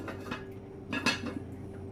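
A heavy Dutch oven lid, the pot holding sourdough bread dough, goes back on with a couple of close metallic clinks. Faint background hum sits underneath and no one speaks.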